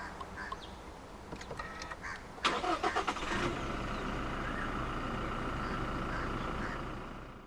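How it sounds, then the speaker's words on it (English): A 2018 Toyota Fortuner 2.4 VRZ diesel starts by push button: a quick cranking burst, then the engine catches and settles into a steady, loud idle that carries on to the end. "Put your foot on the brake and press the start button to the right of the steering wheel."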